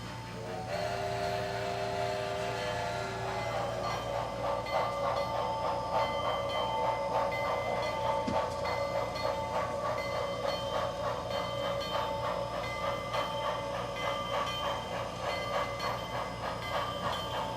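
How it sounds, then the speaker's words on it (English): Sn3 scale model steam locomotive, a Sierra Pacific Line consolidation, hauling a mixed train into a logging layout town, opening with a brief whistle blast, then steady rhythmic chuffing and rail clatter that carries on loud and close. "We've just seen 145, one of the Sierra Pacific Line's consolidations, haul a mixed train into Lost Creek."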